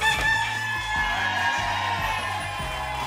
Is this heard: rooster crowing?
yes